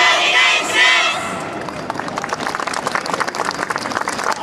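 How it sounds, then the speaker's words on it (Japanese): A festival crowd at a Kisarazu dance competition claps and cheers together, a burst of shouts at first giving way to steady rhythmic hand-clapping that continues to the end. "手拍子と応援よろしくお願いします"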